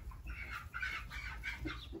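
Faverolles chickens cluck and chatter close by in a poultry yard on a hot day, several short overlapping calls rising and falling with no talk.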